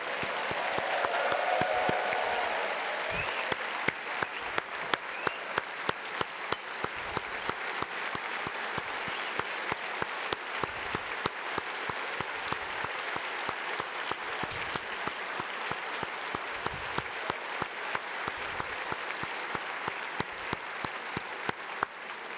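Applause from a luncheon audience at a Navy League Sea-Air-Space event, a sustained crowd clapping that thins toward the end into sparse, distinct individual claps.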